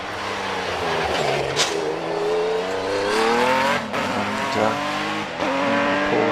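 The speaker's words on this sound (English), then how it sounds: "up onto the line comes the Boxster number 106" A Porsche Boxster race car climbs the Prescott hill climb, its engine revving hard through rising gear pulls with brief tyre squeals, loud and close with no voices.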